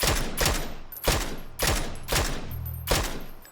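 Gunfire in the video game PUBG, several sharp bursts of rapid automatic shots spaced about half a second apart, loud and close with no talk.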